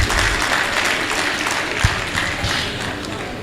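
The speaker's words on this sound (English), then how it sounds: "A round of applause for the Vice Chancellor, please." An audience applauds the Vice Chancellor at a university inaugural lecture, a dense, steady wash of clapping from a large hall crowd that holds at even loudness throughout.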